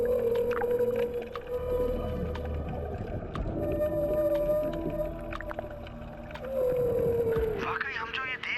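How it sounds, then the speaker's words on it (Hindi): Whales swimming together in the Arabian Sea sing long, sustained tonal calls that rise and fall, heard underwater alongside bubbling clicks and a deep rumble, ending with a burst of higher warbling cries. "जब दोनों एक साथ तैरते हैं तब ये खास तरह का साउंड निकालते हैं जिसे व्हेल सॉन्ग भी"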